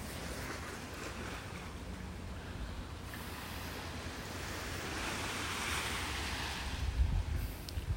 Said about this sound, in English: As soon as I get out from behind the trees here, it's going to be breezy.